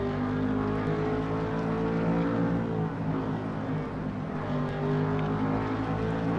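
Stock race car in a racing sim video game running flat out near 9,400 RPM at around 180 mph, a loud sustained engine whine with steady harmonics that dip briefly and climb again, continuous and close; no voices.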